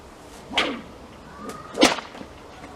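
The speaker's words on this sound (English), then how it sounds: "So that is how you do a Cattleman crack" A whip cracking in the Cattleman crack technique, two sharp snaps about a second apart, each led by a short swish, close and loud with no talking.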